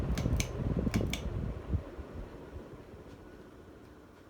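An antique brass Silkon 42-inch ceiling fan spins down, its low whirring rumble and a few light ticking clicks fading gradually toward quiet over several seconds.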